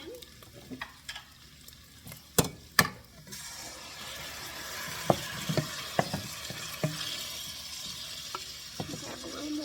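Sauce is poured into a hot pan while making baked ziti, bringing a soft, continuous sizzle and gentle stirring. A few sharp clanks of the utensil against the pan sound close by.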